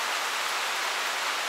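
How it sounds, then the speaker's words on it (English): Heavy rain pours down steadily on a street during a downpour in Arunachal Pradesh, a dense, even hiss with no breaks and no voices. "it's raining a lot here."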